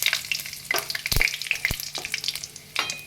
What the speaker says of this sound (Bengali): গরম হয়ে গেছে, এবার আমি ফোড়নে দিচ্ছি, জিরে ফোড়ন দিচ্ছি, গোটা গরম মশলা দিলাম, কটা লবঙ্গ, দারচিনি আর ছোট এলাচ,